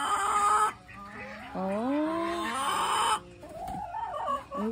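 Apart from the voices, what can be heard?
chickens clucking at breakfast on a farm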